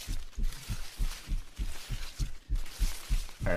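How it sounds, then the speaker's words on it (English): Steady rhythmic heartbeat sound effect, roughly a dozen soft low thumps in even pairs, faint and close, with no talking over it. "Heartbeat."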